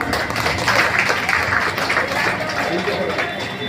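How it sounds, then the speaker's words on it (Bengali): Crowd clapping at an outdoor community gathering in Sonarpur, a dense steady patter of many hands filling the space, fairly loud and continuous throughout. "সবাই একটু জোরে হাততালি দেবেন"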